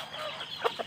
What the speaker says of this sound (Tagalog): Ayun ho yung pinakamatagal kong manok, yun.